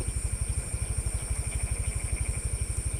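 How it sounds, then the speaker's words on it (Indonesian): A Honda Vario scooter engine runs roughly at close range, giving a steady, fast, pulsing putter with a rattly, uneven edge. "apalagi ya yang mengakibatkan Vario ini berebet tarikan awalnya itu"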